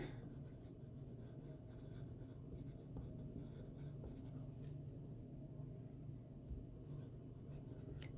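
A pen scratches dimensions onto paper in a continuous, faint, close scribbling rasp over a low hum, with no pauses in the writing.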